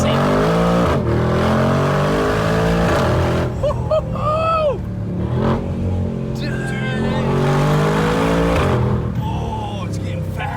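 A rebuilt, previously wrecked 2022 Mercedes G63 G Wagon accelerates hard, its engine roaring loud and rising through several gear shifts, with people talking over it.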